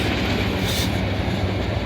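A Norfolk Southern freight train with a mid-train DPU locomotive rolls past close by, a loud, steady rumble of railcars with rhythmic wheel clatter.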